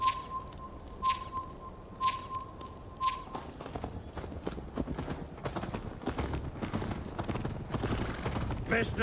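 Horse hooves clip-clopping in the video game Assassin's Creed Valhalla: a steady rhythmic trot of hoofbeats under game music and ambience, with a faint whinny and some clanking gear.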